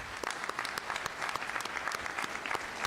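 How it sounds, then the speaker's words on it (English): An audience at a university convocation breaks into dense applause, a steady, busy patter of many hands clapping without letup. "Can we give them a round of applause?"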